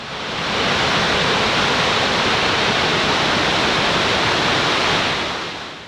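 Murchison Falls on the Nile, where the river squeezes through a narrow rock gorge, roars as a dense, steady rushing wash of falling water that fades in, holds loud and constant, then tapers off.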